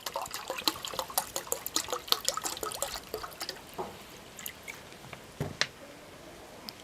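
Water is poured into a milk solution for plants as a light, irregular trickle of spattering drips and splashes that gradually thins out, quiet and close.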